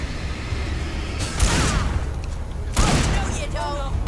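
Gunfire in the Alan Wake video game, two sharp bursts of shots standing out over a noisy rumbling backdrop, with brief spoken exclamations between them.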